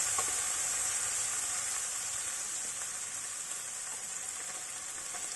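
Cumin-coriander powder and turmeric fry in oil in a pan for paneer chilli, giving a soft, steady sizzle with faint scraping ticks, close but fairly quiet and unbroken.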